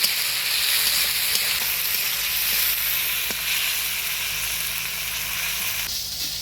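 Small fish sizzle and fry steadily in a kadai as they are stirred, a loud continuous hiss with faint scraping, close and unbroken for several seconds with no talking.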